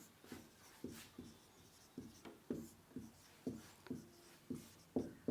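A pen scratches across paper in short, regular strokes, roughly two per second, close and fairly quiet with no talk.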